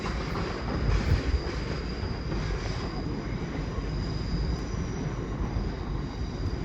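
A train rolls through Crewe station on the West Coast Main Line with a steady, continuous rumble of wheels on rails, with faint squealing above it, mid-distance and unbroken throughout.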